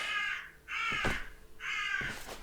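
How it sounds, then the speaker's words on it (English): A crow caws three times, loud and close, each harsh call spaced about a second apart with brief gaps between. "little friendly, not so friendly crow"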